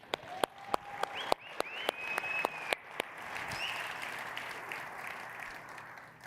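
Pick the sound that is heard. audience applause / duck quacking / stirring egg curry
audience applause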